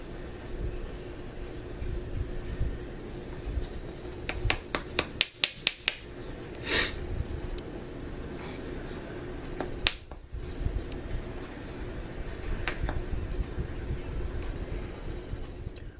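A stone biface preform being flintknapped, its edge worked freehand: a quick burst of sharp, glassy ticking strikes near the middle, then a few isolated clicks later over a steady low background.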